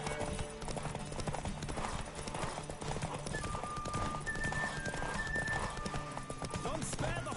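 Horse galloping at speed in The Witcher 3, with rapid clip-clop hoofbeats running steadily and loudly throughout, an occasional whinny, and crowd voices and game music layered beneath.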